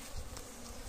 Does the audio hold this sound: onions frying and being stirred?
no